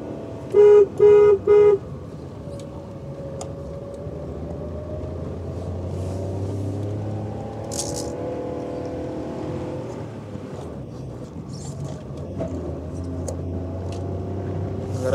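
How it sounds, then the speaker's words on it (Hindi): A Maruti Alto 800 climbs a steep, rough off-road track between Padum and Leh in Ladakh, its small engine held at a steady, strained drone, broken early by three short, sharp horn toots and scattered knocks from the rough ground. "आपको लग रहा हो कि मैं इतना रेव क्यों कर रहा हूँ"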